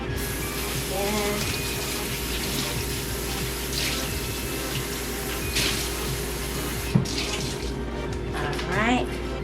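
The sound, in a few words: wetting a rag under running water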